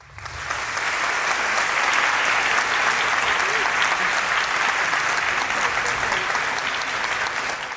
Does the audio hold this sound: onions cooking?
no